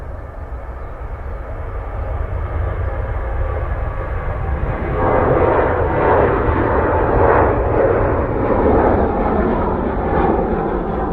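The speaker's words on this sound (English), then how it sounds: "keeping a close eye on the aircraft on approach" An aircraft on approach at Manchester Airport roars steadily, its engine noise rising and swelling as it draws nearer, with no talking.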